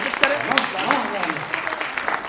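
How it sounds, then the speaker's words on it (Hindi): An audience at a Hindi comic poetry event claps loudly, a dense burst of applause with sharp individual claps close by while a host's voice carries over it. "बहुत जोरदार तालियों से शशि को आमंत्रित"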